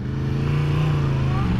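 A 2016 Yamaha MT-10 Crossplane motorcycle engine runs steadily nearby, a loud, rough, continuous drone with a slight rise in pitch toward the end.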